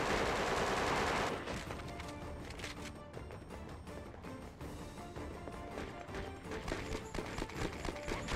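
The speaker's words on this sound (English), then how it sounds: "Who's shooting?" Sustained gunfire rattles through a street battle in Conflict: Desert Storm 2, a dense, continuous wash of shots with a loud burst at the start and steady crackling volleys after, no voices over it.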